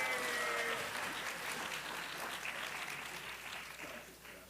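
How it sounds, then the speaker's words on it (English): A crowd applauds steadily, a dense wash of clapping that tapers off slightly toward the end; no one speaks. "You can clap for him,"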